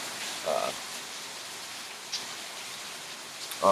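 Steady rain patters on a hard surface, a soft continuous hiss broken by a few louder knocks.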